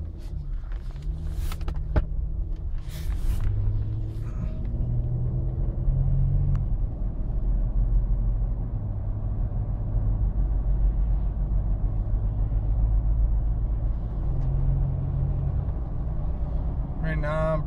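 A car with a transmission that won't shift out of drive, cruising at around 35 to 40 mph, gives a steady low road and engine rumble throughout, with someone talking over it.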